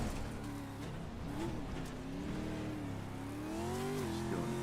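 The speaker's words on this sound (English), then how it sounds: "900 horsepower truck, 4-wheel drive, 900 horsepower." A 900-horsepower four-wheel-drive Pro 4 truck engine in iRacing revs hard and steadily, its tone climbing and falling with throttle as the truck slides through dirt corners, loud and continuous with no one talking.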